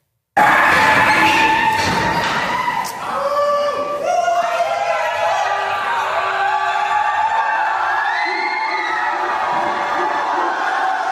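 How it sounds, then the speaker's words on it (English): Keffiyeh-wearing student protesters at Columbia University scream and yell from behind barricaded doors, a loud, sustained wall of crowd shouting and whooping with overlapping voices close by. "it's all these keffiyeh-wearing Columbia students screaming and leaning, full body leaning against the doors"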